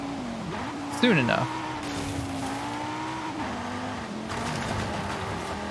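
Hyundai Veloster N in Forza Horizon 5 cornering on a race lap, engine note rising and falling with a sharp tyre squeal and slide, while a voice talks over the driving.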